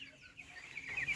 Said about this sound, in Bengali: একটা মুরগি ধরি।